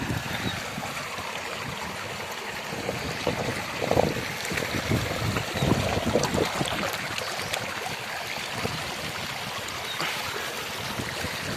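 A steady rush of a clear forest river in Uttarakhand fills the whole stretch, broadband and continuous, with some wind buffeting the microphone.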